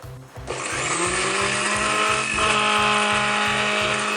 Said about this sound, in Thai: แล้วก็ปั่นไข่แดงกับน้ำตาลทรายก่อนค่ะ